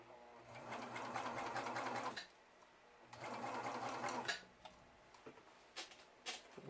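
A serger stitches beads onto a T-shirt sleeve in two sustained whirring bursts separated by a pause, followed by a few light clicks and taps as the machine stops.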